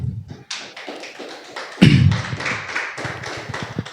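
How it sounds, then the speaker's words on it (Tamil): Hands clap in a loose, uneven patter that builds to a denser burst, fairly quiet and roomy, from a church congregation after a prayer. "கையை தட்டுங்க."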